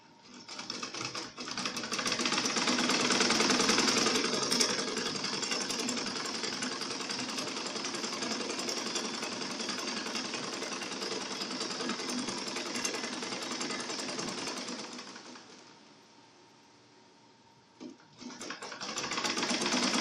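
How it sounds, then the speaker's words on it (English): A sewing machine runs a long continuous seam down an A-line skirt, with a steady, loud whir that holds for about fifteen seconds. It dips briefly as the machine slows, then speeds up again for a short backstitch burst. "So now I'm going to sew down."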